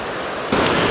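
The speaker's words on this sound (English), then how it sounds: "One more view of the creek here" Creek water rushes steadily near waterfalls around Helen, Georgia, a dense broadband wash that swells noticeably louder halfway through and then holds, with no voices.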